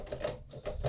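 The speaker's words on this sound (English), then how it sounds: "Clacky keys." Keys on a Samson Carbon 49 MIDI keyboard clack in quick, quiet taps, several presses in under a second, with a hollow plasticky knock close to the mic.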